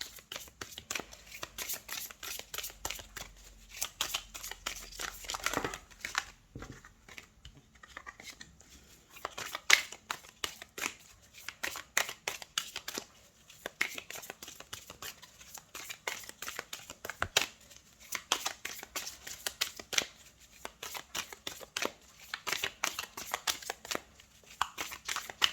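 Oracle cards being shuffled for a full moon reading, a steady run of crisp papery riffles and flicks lasting the whole stretch with no talk.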